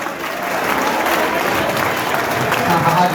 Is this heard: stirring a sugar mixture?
no